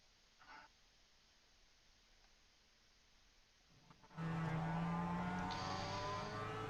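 A simulated race car at Tsukuba Circuit in iRacing, heard on board: a faint, distant hum first, then a loud, steady, high engine drone that kicks in abruptly and holds to the end, with a brief pitch shift.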